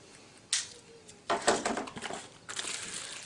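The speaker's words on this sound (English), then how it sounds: "I'll have to get the old trusty knife out. We'll just cut that." Knife slicing through the plastic packaging of a pair of 3D glasses, heard as a quick scrape followed by a longer burst of crinkling and crackling plastic, then more rustling, close up with no talk.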